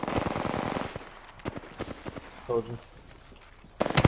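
Video game gunfire in a squad battle royale match, with a rapid burst of automatic shots at the start and scattered single shots and a loud burst at the end, heard under brief speech.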